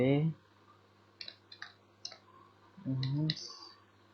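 Sparse keyboard clicks from typing script code on a computer, a few separate taps and short bursts between stretches of speech at start and end.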